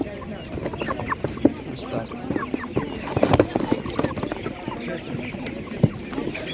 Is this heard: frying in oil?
no